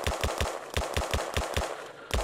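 Rapid bursts of automatic gunfire from the horror video game M Is For Murder, loud, sharp and close, firing in quick repeated volleys with a brief pause before a final shot.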